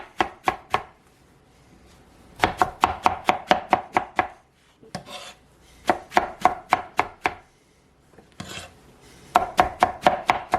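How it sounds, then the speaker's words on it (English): Knife chopping apples on a cutting board in quick rhythmic bursts of sharp, close taps, separated by short pauses. "Then I'm going to chop them up."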